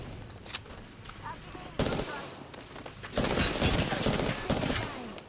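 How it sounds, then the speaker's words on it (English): Video game gunfire comes in sharp bursts of rapid shots, two main volleys that are fairly loud amid busy game effects. "Shooting."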